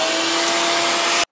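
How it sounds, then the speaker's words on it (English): A vacuum sucks buildup out of the drain area of an Aprilaire home humidifier, a loud steady roaring whine running close and unbroken before cutting off abruptly. "First, I'm gonna vacuum it up a little bit."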